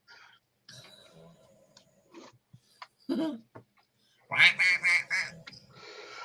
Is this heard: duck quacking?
yes